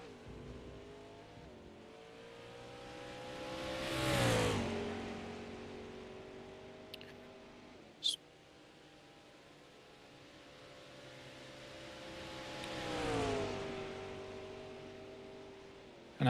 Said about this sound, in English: McLaren MP412C is what we've got John Derrick running in at the moment